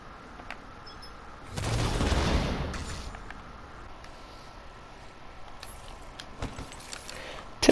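An artillery turret fires in a video game, sending out one loud, broad burst with a rumbling tail that fades over a couple of seconds. A few faint clicks and small pops follow, with no talking.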